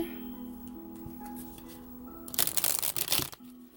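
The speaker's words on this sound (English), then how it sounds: "And give a shuffle here." A deck of cards is riffled in a quick crisp burst, close and loud, after a stretch of quiet background hum.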